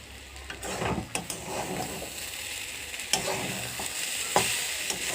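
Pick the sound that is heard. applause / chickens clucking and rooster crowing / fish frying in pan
fish frying in pan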